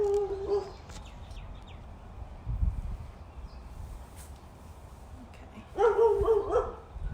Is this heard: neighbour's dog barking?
yes